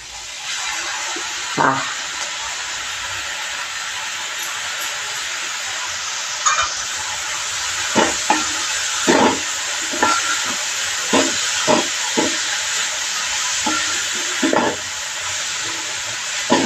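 Coriander leaves frying with a cooked spice paste in a home kitchen pan give a steady sizzling hiss, broken by occasional soft scrapes and knocks of stirring.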